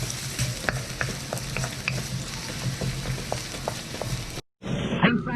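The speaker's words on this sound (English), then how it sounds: "I'm frying the onion just to use the onion oil later on." Onions sizzle steadily over low heat in a hot pan, a dense crackling hiss with occasional stirring scrapes, broken by a brief cut before the sizzling resumes.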